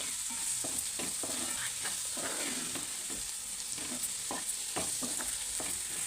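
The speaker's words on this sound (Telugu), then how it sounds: "ఫస్ట్ ఎగ్స్ వేసుకొని ఇలా వేయించుకుందాం" Eggs fry in a pan with a continuous bright sizzle. Repeated scraping strokes from stirring come throughout, close and even in level.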